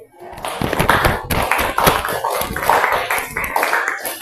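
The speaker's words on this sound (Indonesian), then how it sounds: "Tepuk tangan dulu." Classroom audience claps for a student group's presentation; a short burst of uneven, close hand claps of moderate loudness that keeps going for a few seconds.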